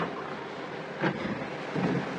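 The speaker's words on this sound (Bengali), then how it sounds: "ওই যে বাইরে বৃষ্টি হইতেছে" Rain falls steadily outside, a dense continuous hiss with a couple of soft low rumbles, no voices.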